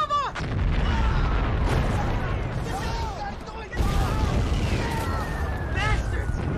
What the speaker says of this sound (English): Our guys are bombing us!